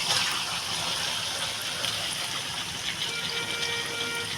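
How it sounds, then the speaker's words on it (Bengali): Marinated chicken pours into a pan for chicken kosha, giving a steady, loud wet rush that holds for the whole stretch without breaks. "আমি এবারে যে এই মাংসটা ম্যারিনেট করা মাংসটা ঢেলে দেবো"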